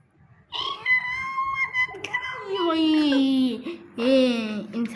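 A cat meows in several drawn-out, wavering cries up close, rising and falling in pitch, with one long plaintive meow and a shorter sharp one at the end; little else is heard.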